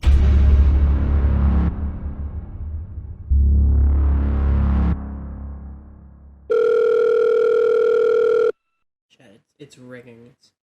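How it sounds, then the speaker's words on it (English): A telephone rings on an outgoing call, sounding in long repeated ringback bursts separated by pauses, followed by a steady electronic tone and then a short stretch of a voice answering. "It's ringing."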